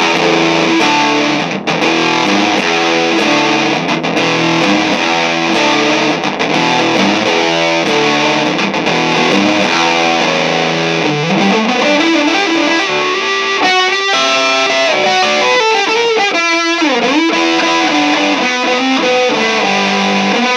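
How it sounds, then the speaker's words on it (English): Heavily distorted electric guitar through a Rat distortion pedal plays continuously, thick and loud, with chugging low riffs that shift into bending, sliding lead notes in the second half. "let's just go all the way with the distortion on both of these"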